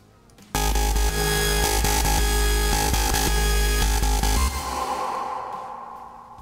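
A loud, heavy wobbly dubstep synth bass made in Massive rumbles steadily for several seconds with a growling, modulated tone, then fades away.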